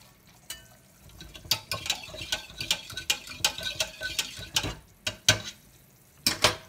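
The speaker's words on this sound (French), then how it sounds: "Je prends le fouet, je remue bien." A whisk stirs flour into a thickening roux for fish lasagne in a pan, scraping rhythmically and quickly with sharp metallic taps against the sides, close and fairly quiet.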